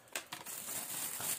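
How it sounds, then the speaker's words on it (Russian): Small plastic bag crinkling as pieces of beef are dropped in for goulash, a few short, crisp rustles and crackles, close and quiet. "После чего перекладываем говядину в пакетик."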